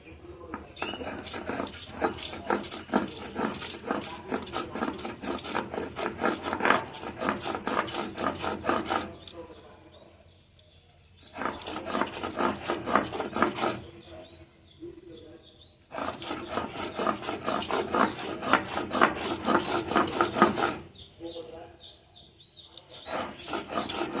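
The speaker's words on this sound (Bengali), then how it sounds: "এখন উঠে নেব কাঁচামরিচ আর পেঁয়াজ রসুনটা এখন বেটে নেব" Green chili, onion and garlic ground into a paste on a grinding stone, with repeated loud rasping strokes in bursts separated by short pauses, close up and without talk.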